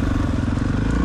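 A 1993 Honda XR600R thumper idles close by after a kickstart, giving a loud, steady, low throbbing beat in a brief burst.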